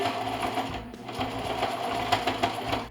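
A sewing machine runs steadily, stitching the seam of a heavy moving-blanket bag with a dense, continuous mechanical whir and small speed surges, close and loud with no talking.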